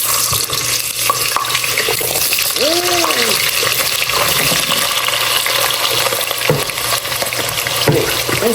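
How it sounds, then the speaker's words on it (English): Chopped, washed potatoes go into a pot of hot oil for fried pork chops, giving a loud, steady sizzle and bubbling that runs the whole time, with a voice briefly heard over it. "We'll put these potatoes in there."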